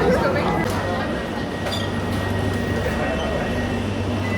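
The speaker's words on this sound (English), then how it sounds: "We just missed our train." Metro train in a Barcelona subway station, a steady low rumble and hum filling the platform throughout, with people talking over it.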